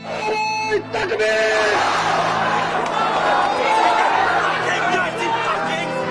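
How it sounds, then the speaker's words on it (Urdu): A dramatized crowd bursts into shouting slogans, loud overlapping yells and chatter building into a sustained roar of many voices. "معمول کے مطابق کام شروع ہوا اور طے شدہ وقت پر فضا نعرے سے گونج اٹھی"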